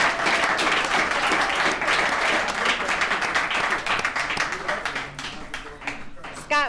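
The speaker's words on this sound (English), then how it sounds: "Let's give Scott another round of applause." A room of people at an alumni recovery meeting breaks into sustained applause, dense and loud at first, then thinning and tapering off near the end as a voice starts to come through.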